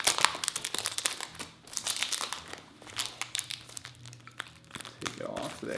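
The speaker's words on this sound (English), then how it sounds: "So, take off the plastic." Plastic wrap crinkles and tears as it is peeled off a Burberry London perfume box, bursts of close crackling with brief pauses and a voice talking between them.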